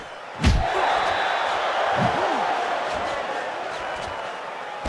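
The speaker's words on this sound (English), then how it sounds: "A good body shot knocked down by Corrales" In a Pacquiao vs Corrales lightweight boxing video game, a punch lands with a sharp, close slam. Quieter body-shot thuds follow over a steady arena crowd roar and commentary.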